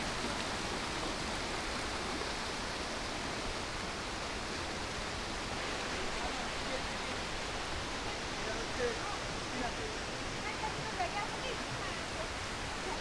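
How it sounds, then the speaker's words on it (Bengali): Suptadhara waterfall near Sitakunda, swollen by rain, pours down a hillside in a strong current, making a dense, steady roar up close that stays constant throughout. "ওই যে ঝর্ণা দেখা যাচ্ছে পাহাড় থেকে পানি পড়ছে বৃষ্টির কারণে ঝর্ণার পানি অনেক বেড়ে গেছে আর প্রচন্ড রকমের স্রোত"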